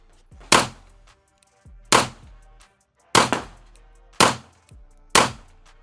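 Five sharp pistol shots fired at a target on a range, each a loud crack with a short decaying tail, spaced roughly a second apart, with faint clicks of handling between them.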